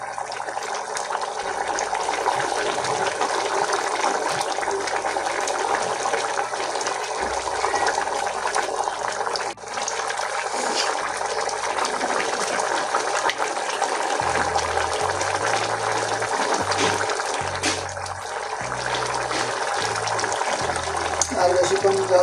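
Water pours steadily into a pot of tilapia curry with potato and eggplant, a continuous gushing splash that runs loud for over twenty seconds, with occasional low clatter underneath.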